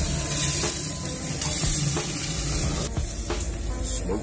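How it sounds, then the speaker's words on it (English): Smoked pork being spritzed on a Pit Boss Lockhart smoker: a handful of short, close spray bursts cut through a constant loud hiss and rushing background. "Probably going to spritz it a little bit."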